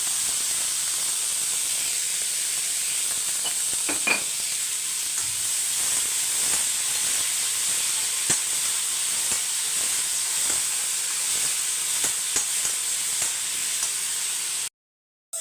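Onions and tomatoes sautéing in a pan, a steady hiss and sizzle with occasional faint clicks of stirring, constant and unvoiced until it cuts off at the end.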